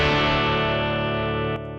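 Sansamp amp simulator plug-in distortion on a sustained electric guitar chord, thick and buzzing, ringing steadily and then cutting off abruptly near the end.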